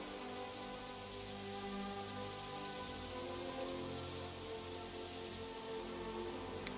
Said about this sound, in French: c'est con que la pluie soit là